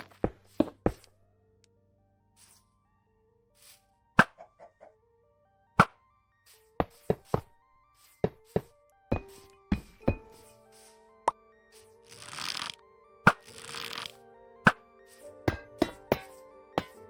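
Scattered short knocks and soft pops of Minecraft block placing land one after another at an uneven pace, with occasional longer crumbly bursts between them.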